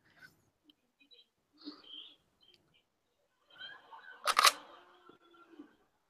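A single-lens reflex camera shutter fires close by in short dry clicks, with one louder burst of rapid clattering near the end amid small handling noises and quiet surroundings.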